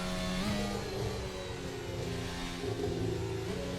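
Formula 1 car engine in an F1 2024 video game at the São Paulo Grand Prix circuit, revving hard and steadily through a corner with a continuous, loud whine that shifts pitch as it accelerates.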